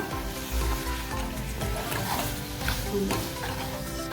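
A sweet modak filling made with strawberry crush and jaggery is stirred and sautéed in a pan. Soft continuous sizzling mixes with scraping spoon strokes, close and steady, with no talk.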